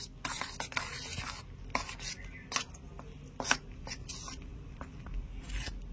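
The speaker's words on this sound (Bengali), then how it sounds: "এবারে প্রথমে একটু চামচ দিয়ে একটু মিশিয়ে নেব।" A spoon stirs flour and water in a bowl, giving soft, irregular scraping and clinking strokes, fairly close and quiet, with no talking.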